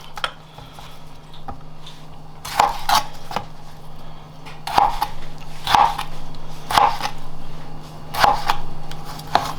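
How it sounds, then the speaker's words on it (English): Knife chopping tomatoes for a curry shrimp dish, heard as clusters of sharp, close clicks and knocks on a board. The strikes come in irregular bursts about every two seconds over a steady low hum. "Chop up the tomatoes"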